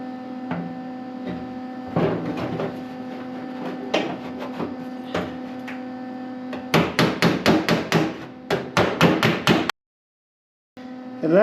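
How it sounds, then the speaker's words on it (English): Hammer striking spot welds on a 1966 VW Beetle heater channel, at first a few scattered blows over a steady electrical hum, then a rapid run of loud, close metallic hits, a brief silence, and another strike. "hit the spot weld, and that'll help stretch that spot weld out a little bit"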